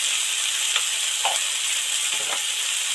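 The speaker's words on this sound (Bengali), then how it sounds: "সুন্দর ভাজা হয়েছে আপনারা ঠিক এইভাবে ভাজবেন" Batboti beans fry with turmeric and chili powder in a pan, giving a steady, dense sizzle close by, broken by a few soft stirring scrapes.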